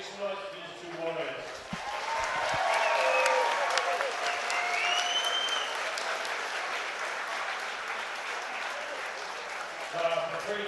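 A crowd at a fight event applauds and cheers after the bout, building from scattered claps into a sustained roar of clapping and whoops, with a voice speaking over it at the start and end.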